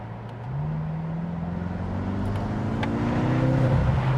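A BMW M6 sports car engine revs up from idle with a steady rising growl, close and loud, no talking.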